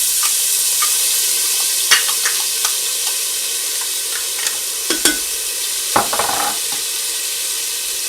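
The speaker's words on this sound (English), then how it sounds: "And then my next step is I'm going to put in the onions and garlic." Onions and garlic sizzle and fry steadily in a Ninja Foodi, a close bright hiss with intermittent clicks and scrapes from stirring, and no talking.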